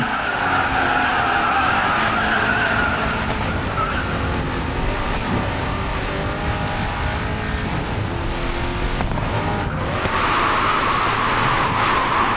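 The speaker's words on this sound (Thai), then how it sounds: "คือถ้าเรามาแรงไม่คุมความเร็วให้ดีนะ ยังไงก็ไหลครับ" A Bugatti Chiron in the racing game Racing Master screeches through a long continuous tire skid, loud and sustained over a steady engine roar for the whole stretch.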